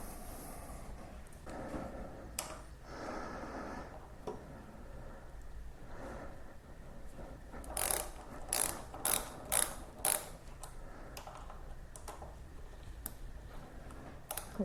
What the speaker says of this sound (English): this is what's just known as a stubby wrench